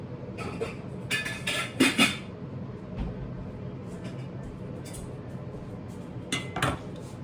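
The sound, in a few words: getting a pot out, pots and pans clattering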